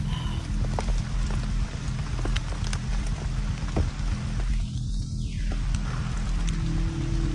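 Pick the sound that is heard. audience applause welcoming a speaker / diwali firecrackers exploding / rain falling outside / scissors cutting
rain falling outside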